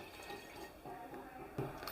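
Water is poured into a pot of raw rice, a faint, brief splashing trickle with a slightly louder surge near the end.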